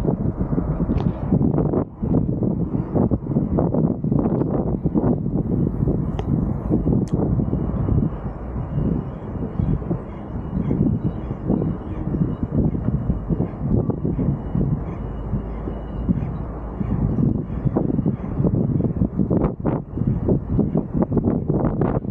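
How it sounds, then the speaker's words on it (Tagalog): Strong wind at sea off a fishing boat, a loud constant roar buffeting the microphone for the whole stretch with no speech. "Malakas po ang hangin."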